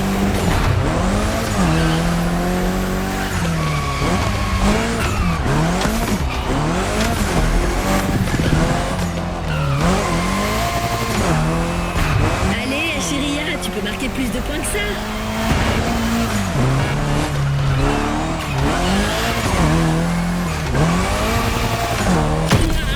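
Drifting car in The Crew Motorfest video game, tires squealing and engine revving continuously and loudly with rising and falling pitch, mixed with game music and voices talking over it throughout.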